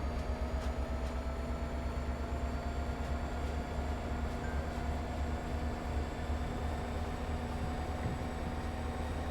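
A train in a train-driving video game rumbles steadily along the track, a constant low drone of engine and wheel noise with a faint high whine, even and unbroken throughout.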